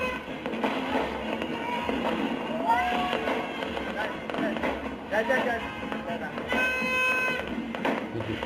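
A New Year fireworks display sounds in the distance, with scattered pops and thuds and a few whistling rising shells, under a steady murmur of crowd and voices.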